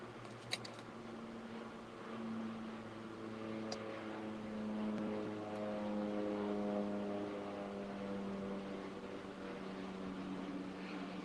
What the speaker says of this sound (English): It's a loud airplane. Do you guys hear it?